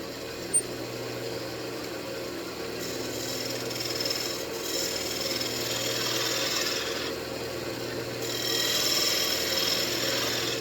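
A steady, soft abrasive hiss of sanding teak wood on a lathe runs throughout against a low machine hum, with no talking.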